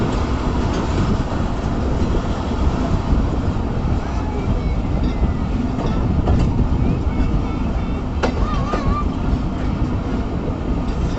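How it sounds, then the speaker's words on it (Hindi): Pakistan Express train rolling toward Hyderabad Junction, a steady dense rumble of wheels and carriages with faint rail clatter, heard from on board and continuous throughout, with a few brief squeals. "पाकिस्तान एक्सप्रेस हैदराबाद जंक्शन पर ट्रैवल कर रही है"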